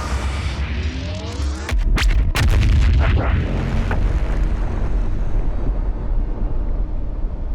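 BFG 10,000 firing to blast a hole in Mars in Doom Eternal: a deep booming blast with a heavy rumble, sharp cracking bursts around two to three seconds in, then a long sustained roar.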